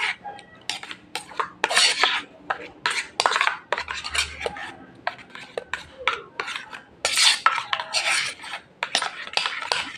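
A spoon stirs hair conditioner mixed with vinegar in a small container, producing quick clinking scrapes and rubbing strokes in steady bursts, close up and moderately quiet, with no voices.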